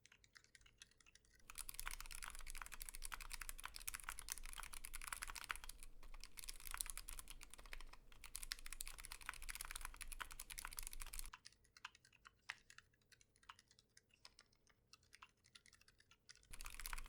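Rapid, continuous typing on an aluminum KBDFans 60% keyboard fitted with Gazzew Bobagum silent linear and Gateron Yellow switches, dense muted keystrokes up close, followed by a sparser, quieter stretch of individual presses.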